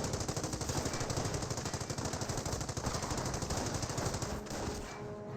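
An MG42 machine gun firing in the WWII strategy game Company of Heroes, a long rapid rattling burst of closely spaced shots with distant gunfire layered underneath, tapering off near the end.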